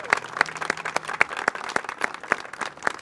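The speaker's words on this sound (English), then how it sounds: "How about one more round of applause for our top 10 designers?" A small crowd at a county flag unveiling claps for the top designers, sparse and uneven, with a handful of sharp, distinct claps spaced out in a loose rhythm and a faint murmur behind.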